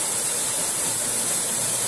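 A waterfall, the second falls at Varvara in Chalkidiki, Greece, roars in a steady, loud, unbroken rush of falling water with no voices over it.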